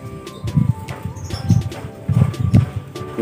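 Zebra doves (perkutut) cooing in a pair of low, rhythmic, repeated coo phrases, close and fairly loud, with faint other birds chirping in the background.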